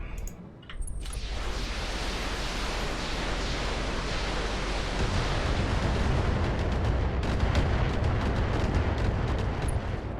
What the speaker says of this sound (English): that was a huge amount of missiles